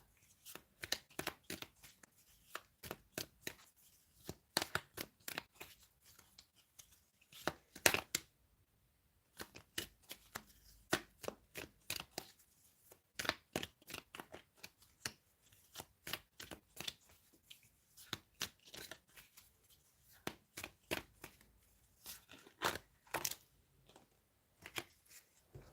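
Tarot cards are shuffled over and over, sharp close slaps and riffles in irregular bursts separated by short quiet gaps, with no one talking.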